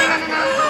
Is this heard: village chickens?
yes